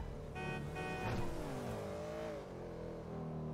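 A car engine in the video game GTA V revs and shifts pitch as it accelerates, a steady droning whine with rising and falling tones throughout.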